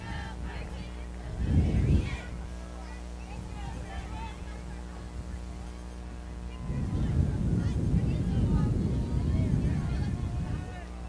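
Heavy wind blows across an outdoor high school football game, a low rumbling buffet that swells in two strong gusts, with a commentator talking throughout.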